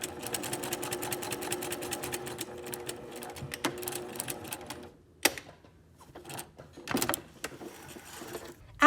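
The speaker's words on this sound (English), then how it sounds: "After sewing the fly facing to the left front" A sewing machine stitches a fly facing to the front of a garment, running in a rapid, even needle rhythm for about five seconds, then stops, followed by a few scattered clicks and handling sounds.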